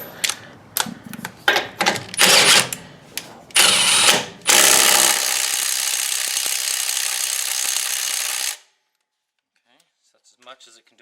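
A Milwaukee M18 FUEL impact driver undoing a nut hammers in short bursts, then in one long, loud, sustained rattling run that stops abruptly, leaving near silence with a few faint clicks.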